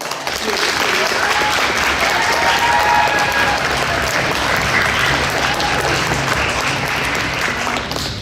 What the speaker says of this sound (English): can I have you all please give them a round of applause?